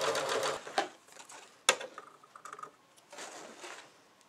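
Rapid mechanical chatter of a sewing machine stitching, in quick bursts with short pauses and one sharp clack partway through, fairly faint and close, with no talking.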